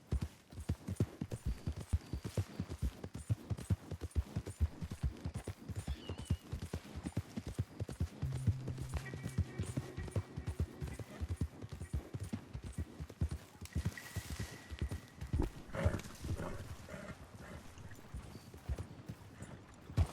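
Horse hooves clip-clopping in rapid galloping rhythm in Red Dead Redemption 2, a continuous close drumming of hoofbeats with a brief whinny and faint game sounds in the background.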